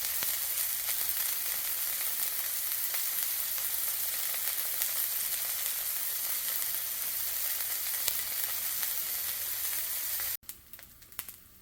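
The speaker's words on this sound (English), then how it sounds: "So we're going to go ahead and put a sear on our venison roast real quick." Venison roast searing in a hot pan, a steady loud sizzle and crackle of frying meat that runs on evenly before cutting off near the end.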